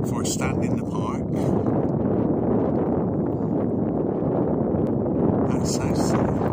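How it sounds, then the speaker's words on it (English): Chilly wind gusts across a seaside park, buffeting the microphone in a continuous loud rumbling roar that never lets up. "It's a bit windy, very chilly."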